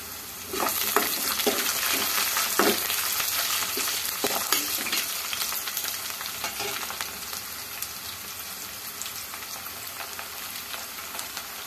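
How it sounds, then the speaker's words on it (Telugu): Onion frying in oil in a pan while rock salt goes in, producing a loud, dense, continuous sizzle and crackle with scattered stirring scrapes close to the pan throughout, with no talking. "ఉల్లిగడ్డ కొంచెం వేగాలి నూనెలో. నూనెలో వేగుతుంటే రాళ్ళు ఉప్పు వేస్తున్నా,"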